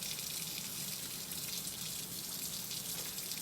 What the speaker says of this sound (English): to quickly wash our hands for a good 20 seconds, make sure all the germs are off it.